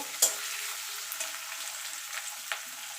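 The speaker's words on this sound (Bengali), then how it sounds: "দিয়ে পেঁয়াজটা লাল লাল করে ভেজে নেব" Onion sizzles steadily in hot oil in a pan where garlic was just fried, a soft continuous crackle with a couple of sharp clinks from stirring near the start and end.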